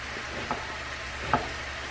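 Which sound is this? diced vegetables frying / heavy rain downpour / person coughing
diced vegetables frying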